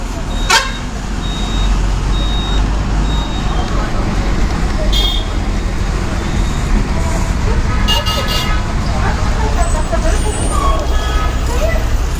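Busy road traffic around a Kaveri bus in Vijayawada: a steady, loud rumble of engines with scattered horn toots throughout, and voices mixed into the din.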